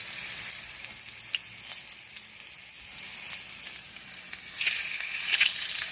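Beef steak rolls frying in a pan produce a bright, continuous sizzle with scattered crackles and spits that grows a little louder toward the end, heard up close with no voices.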